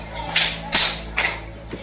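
Three crisp hand claps, evenly spaced and close, mark a round of a counting clapping game, followed by a faint fourth tap against quiet room tone.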